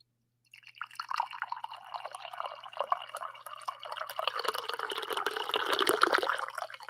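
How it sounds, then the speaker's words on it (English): Hot tea poured from a kettle into a cup, a steady trickling, splashing stream that starts after a brief silence and grows fuller and louder as the cup fills, heard alone and close. "I can top off my tea here for you guys with my kettle"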